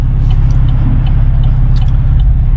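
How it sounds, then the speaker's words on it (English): A Camaro V6 fitted with an MRT V1 exhaust holds a loud, deep, steady rumbling drone at close range, with no voices over it. "At certain RPMs, the tones of this exhaust changes"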